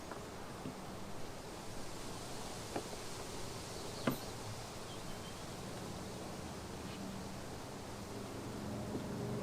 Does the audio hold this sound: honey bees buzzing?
yes